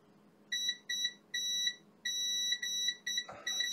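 Repeated electronic beeps from a multimeter in continuity mode while probing ground and signal lines on an HP Pavilion X360 laptop board, seven short and longer tones in an irregular rhythm, loud and close, with a brief click at the end.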